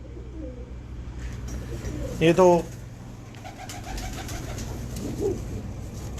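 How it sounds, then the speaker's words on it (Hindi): A khaki pigeon coos softly in a loft, a brief low murmuring call against steady background hum while someone speaks nearby. "इधर मेरा एक अपना खाकी कबूतर"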